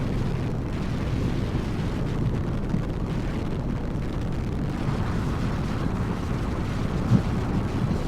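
A Honda NX500 adventure motorcycle cruising at highway speed around 56 mph gives a steady, loud low engine drone mixed with heavy wind rush, with no speech.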